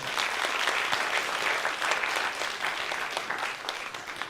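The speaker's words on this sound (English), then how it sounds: "And please give them a round of applause." A room of people applauding young authors at a school event, with sustained, even clapping throughout that eases slightly toward the end, fairly soft and without talk.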